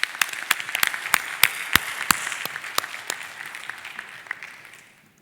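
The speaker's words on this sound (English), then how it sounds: "could everyone just sort of give a big round of applause to our two debaters?" An audience at a debate event applauds its two debaters, a burst of distinct, closely spaced claps that thins out and fades over several seconds.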